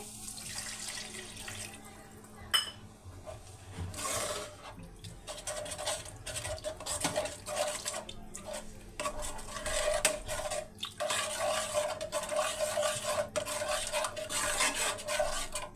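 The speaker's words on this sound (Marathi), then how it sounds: "याला मी 2 मिनिटं असं मिक्स करून घेणार आहे चांगलं." Water is stirred into a simmering lasuni methi (garlic-fenugreek) gravy in a pan, with steady wet swishing and scraping and a few sharp utensil clinks against the pot, close and continuous.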